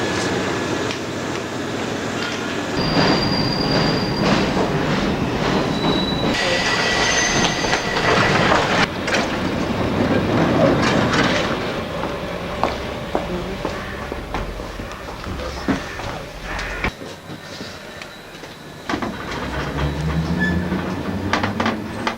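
A London Underground train rolls along on rails, wheels squealing at times over a continuous rumble and clatter, with a brief voice in the background.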